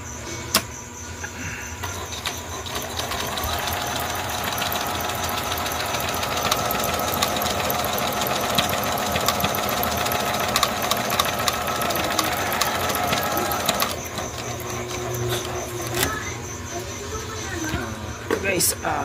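A portable sewing machine fitted with a high-speed needle runs steadily and close by for most of the stretch, a continuous mechanical whir and knock that drops off near the end, with faint background noise.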